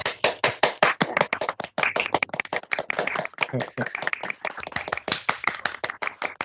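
A small group claps together over an unmuted video call, producing uneven, sharp hand claps that overlap into a thin imitation of applause, with some talk in the background.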